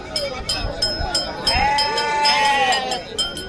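Sheep bleat loudly and close at the Kashti sheep market, several long wavering cries overlapping, with a bell clinking and a crowd murmuring behind them.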